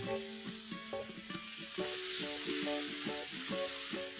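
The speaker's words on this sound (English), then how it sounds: "And now into this, I'm going to add green peas." Boiled green peas go into tomatoes frying on a hot tawa for Jain pulao, giving a steady close sizzle broken by rhythmic scraping and stirring knocks from a spatula, which grows louder midway.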